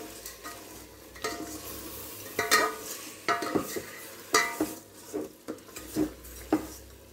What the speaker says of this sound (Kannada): ಈಗ ಚೆನ್ನಾಗಿ ಮಿಕ್ಸ್ ಮಾಡೋಣ. ಚೆನ್ನಾಗಿ ಮಿಕ್ಸ್ ಮಾಡ್ಕೋಬೇಕು ಇದು.